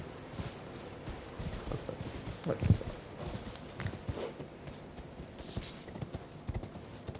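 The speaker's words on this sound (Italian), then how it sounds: "devo far venire il cavallo" Horse hooves clip-clop at a steady walking pace in the open world of Elden Ring, mixed with game ambience and a voice talking over the top.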